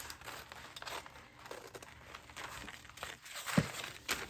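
Scissors snipping and rustling through a fabric applique piece with fusing attached, cutting close around a mason jar pattern for a flour sack tea towel; soft, irregular crinkling snips up close, with one sharper cut near the end.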